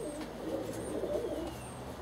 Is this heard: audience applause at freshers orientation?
no